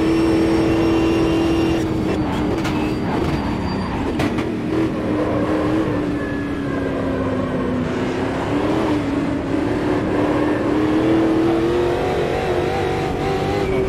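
Chevrolet Cruze Stock Car engine racing in the video game Automobilista 2 on the Goiânia circuit, a loud, steady, continuous engine roar that rises and falls in pitch with revs throughout, with no talk over it.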